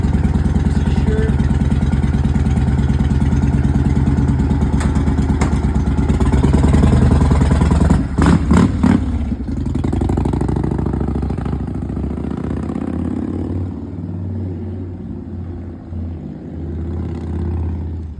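A motorcycle engine idles loud and close with a steady, throbbing rumble, joined by a few sharp clicks midway before settling to a slightly lower steady idle.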